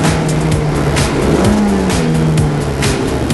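A Lotus Elise S engine roars steadily at close range on a track, its pitch dipping and rising as the driver brakes and then accelerates, with a faint tire squeal.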